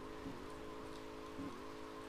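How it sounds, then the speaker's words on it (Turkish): Steady rain falls in the Grand Theft Auto: Vice City game world, a constant soft hiss under a low engine-like drone, with two brief louder swells and no voices. "Yağmur yağıyor diye mi?"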